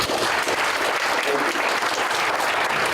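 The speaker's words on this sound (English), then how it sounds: "Mayor Zach Droy, let's give him another round of applause" Sustained applause from a summit audience in Rapid City for the mayor, dense and loud clapping throughout with no pauses.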